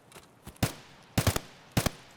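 Three sharp gunfire bursts in an Escape from Tarkov firefight, each a short cluster of cracks spaced roughly half a second apart, moderately distant and fairly quiet.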